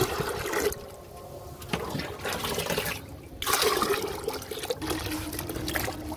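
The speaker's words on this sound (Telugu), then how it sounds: "1 బకెట్ వాటర్ వేయాలి." A bucket of water is poured out into a thick fermented mix in a home garden, loud rushing splashes that come in surges with short quieter gaps between them.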